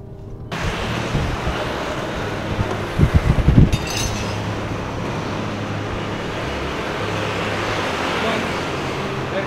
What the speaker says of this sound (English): we're driving around the Pasca area now.